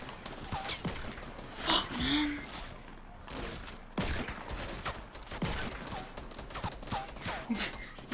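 Gunfire rattles in the Fortnite video game on Xbox One: rapid, moderately loud shot bursts mixed with busy game noise, with players talking over it.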